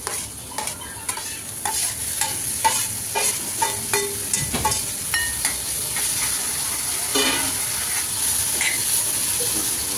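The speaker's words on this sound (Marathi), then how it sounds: "आता कांदा लालसर झालेला आहे, तर आता आपण टोमॅटो हे ॲड करू त्याच्यामध्ये।" Onions and tomatoes frying in a pan for Konkani-style prawn sukka, with steady sizzling and repeated scrapes and clacks of a spoon stirring through the pan, close and continuous.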